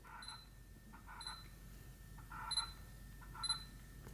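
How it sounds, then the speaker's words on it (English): Faint, brief whirring buzzes from a camera lens autofocus motor, repeating four times at roughly one-second intervals against a quiet background. "So you can hear the focus."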